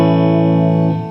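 A major chord strummed once on an electric guitar run through effects, ringing out steady and loud with slight chorus shimmer before decaying near the end, no talk.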